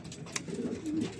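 Racing pigeons coo softly in a loft, low murmuring coos repeating under a background hiss, with a brief flutter or scrape in the middle.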